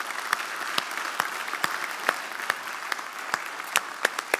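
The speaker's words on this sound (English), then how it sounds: "Let's give Ken one last big hand of applause." Audience applause fills a conference hall at a Scrum 2017 event, a steady moderate wash of many hands with sharper individual claps standing out, no voices over it.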